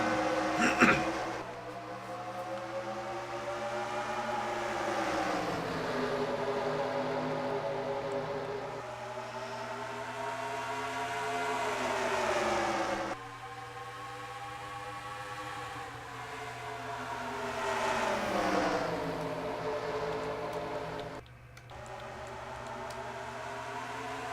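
Stock-car engines in a racing video game rise and fall in long droning sweeps as the pack gets under way, with several roaring passes blending into a sustained, fairly distant hum.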